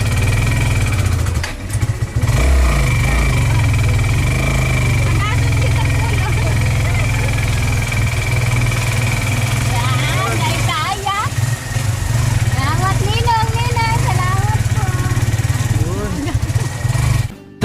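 A motorcycle engine idles steadily and loudly close by, with voices talking over its constant rumble.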